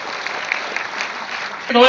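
Audience applause fills an award ceremony hall in a short burst of dense, even clapping, with a voice starting up over a loudspeaker right at the end.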